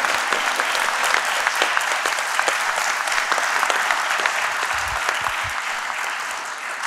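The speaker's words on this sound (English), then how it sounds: "So maybe a little round of applause for those folks." A lecture audience applauds steadily for several seconds, a dense, even patter of many hands clapping at a panel session, with no voices standing out.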